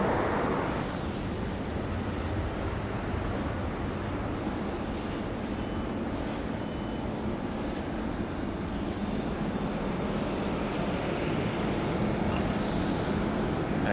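A QantasLink Dash 8-300 turboprop departing in wind, its broad engine roar holding steady and fairly loud, with a thin high propeller whine running across the whole stretch.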